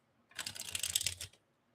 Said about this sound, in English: let's do some preliminary shuffling